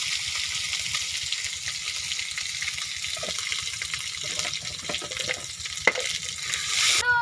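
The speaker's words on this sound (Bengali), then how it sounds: "জিরা বাটা রসুন বাটা আগে দিয়ে দিচ্ছি" Cumin and garlic paste frying in a pan for a pangas fish curry, a steady close sizzle with watery bubbling, a sharp clink near the end and a brief rise in hiss.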